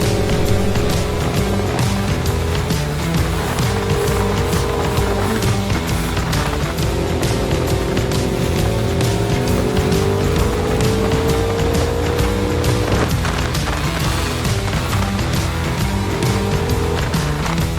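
ATVs run fast along an open dirt road, engines droning loudly and continuously with wavering pitch as they shift and accelerate, over constant gravel and wind rumble.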